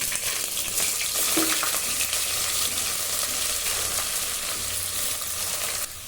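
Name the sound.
chopped onions frying in oil and ghee for chicken biryani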